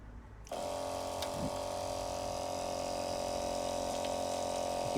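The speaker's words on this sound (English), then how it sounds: "Yes, that is a hot shower" A Camplux portable water heater and pump start up with a soft click, then run a steady hot shower off the back of a Volkswagen T3 campervan, with a constant hum and the hiss of spraying water.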